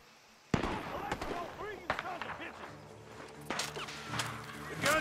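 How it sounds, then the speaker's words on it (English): Gunfire rings out from a barn in the video game Red Dead Redemption 2, a series of sharp, echoing cracks and bangs scattered irregularly, some close and loud, with a lively game soundscape behind them. "Gunshots are coming from that barn!"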